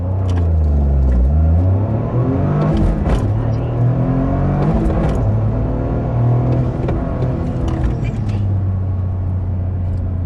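A Toyota GR Corolla launching hard from a standstill for a 0-60 run, its engine loud and close, climbing in pitch through repeated gear changes with short dips between shifts, and a voice speaking over the roar.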